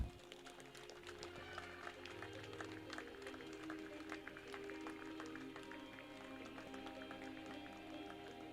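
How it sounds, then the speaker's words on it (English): Audience applause fills a graduation ceremony hall at a business school, with dense, continuous clapping that holds steady throughout. "Can we have a round of applause?"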